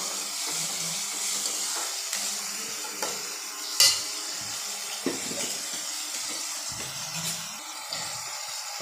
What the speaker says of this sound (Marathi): टॅमॅटोसुद्धा व्यवस्थित चांगल्या प्रकारे परतवलं जाईल.